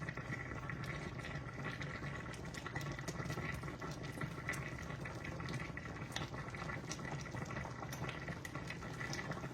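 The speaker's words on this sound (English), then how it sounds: "We will let it simmer just a little bit" A double batch of sweet and sour sauce simmering in a pot over a lowered flame, a steady bubbling and gurgling wash that stays even and moderately loud throughout with no talk.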